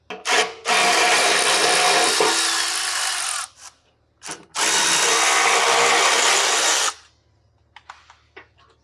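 A power tool, probably an impact driver, removes the front fender bolts on a Harley motorcycle in two long, loud buzzing runs, each a few seconds long, with a short burst and light clinks between and after.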